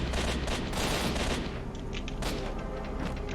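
Enemy gunfire in a shooter video game: dense, loud bursts of rapid shots and booms filling the scene continuously, with no pause.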